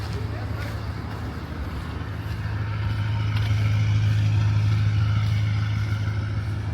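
BMW M550i V8 engine idling steadily, a low rumble that swells and grows louder partway through, heard close by outdoors with faint road noise and a voice nearby.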